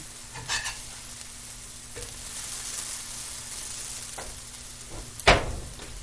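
Cornbread hoecakes fry in oil in a skillet with a steady, faint sizzle. Occasional soft scrapes and stirring sounds come through, and a sharper clink of a utensil lands near the end.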